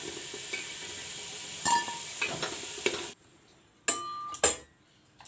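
Fried potatoes crackle in hot oil as they are lifted out, a soft continuous sizzle broken by sharp scraping clicks of a utensil against the pan, then near silence with a few loud metallic knocks.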